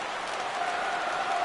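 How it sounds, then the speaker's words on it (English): Stadium crowd noise in a baseball video game rises as fans get to their feet for a full count, a steady broad roar of cheering that swells slightly toward the end with no voices over it. "Crowd gets up for the 3-2."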